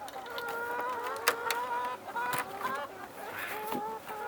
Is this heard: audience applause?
no